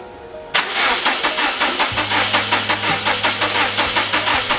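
Subaru 2.5L turbo engine cranking on the starter after a sudden start, a rapid, even chugging rhythm of cranks repeated for several seconds with a low drone joining in, close and loud.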